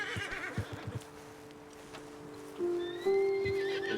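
Horses in Red Dead Redemption 2 stamp and clop their hooves, then a drawn-out neigh and whinny rises clearly near the end, close and moderately loud.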